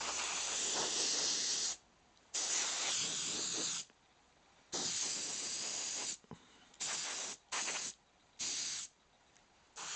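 Airbrush spraying flesh-toned paint onto a werewolf bust in several hissy bursts, long sustained sprays at first, then shorter spurts, close and steady with brief silent gaps between.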